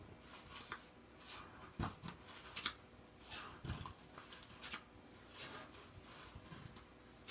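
Scissors snipping through the bumps of a cardboard egg carton for a caterpillar craft, a series of quiet irregular cuts and rustles close by, faint overall.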